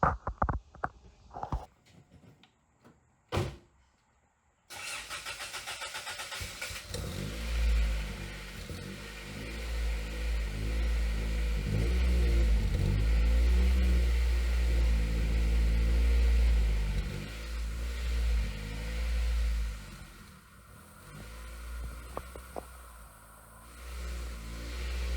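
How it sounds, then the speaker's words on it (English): A hot rod with a new, deep-toned, raspy exhaust revs hard after a few quiet knocks, a loud low rumble rising and falling through repeated throttle blips before easing off near the end. "It's raspy when you want it to be, but it's pretty deep tone, pretty modest exhaust"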